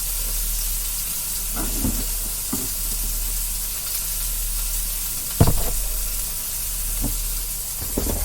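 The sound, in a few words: canned tomatoes and peppers added to a sauce pot, cooking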